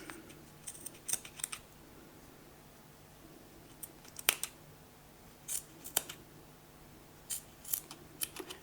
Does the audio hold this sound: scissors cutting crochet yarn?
yes